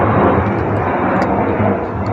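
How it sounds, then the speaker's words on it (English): A fixed-wing airplane passes overhead, its broad steady engine roar continuous and fairly loud throughout, with no speech. "I'm going to let that airplane go by"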